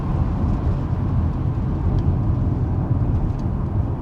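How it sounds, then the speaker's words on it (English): Porsche Macan S with its 3-litre V6 while driving, a steady low engine drone and road rumble from inside the cabin, even and continuous with no speech. "Just love how these Macan sounds"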